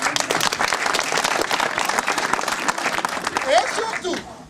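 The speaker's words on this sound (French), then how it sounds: "d'applaudir ces conteurs qui ont arrêté leur programme pour venir ici" An audience applauds a group of storytellers at an evening event, a dense, sustained burst of clapping from many hands that fades slightly toward the end, with a voice faintly mixed in.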